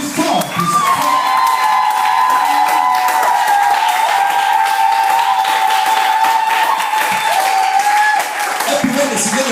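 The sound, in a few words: audience applauding loudly at church welcome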